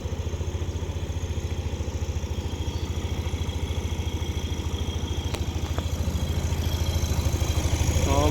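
Yamaha Aerox/NMAX scooter engine idling after repair, a smooth even putter with a fast regular pulse, close and steady, rising slightly toward the end with a couple of light clicks.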